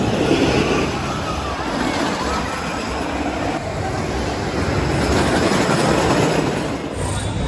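A Gravity Group roller coaster, Mindblower at Fun Spot Kissimmee, rumbles and roars continuously on its track, heard from the ground as a loud, steady wash of wheel and structure noise with faint crowd sounds.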